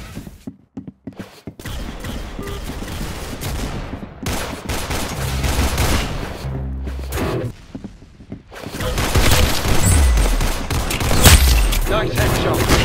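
Gunfire in the Roblox shooter game Arsenal on mobile: dense, loud volleys of rapid shots with booms and thuds in irregular bursts, while people talk in the background.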